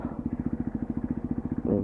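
Triumph Tiger adventure motorcycle on a night ride, its engine thumping in a steady low pulsing rhythm close by, with a brief rise in engine note near the end.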